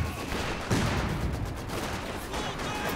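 Machine gun and artillery fire from a battle in the real-time strategy game Company of Heroes 2, a dense, continuous rattle of gunfire with a heavier burst early on, heard at a moderate distance.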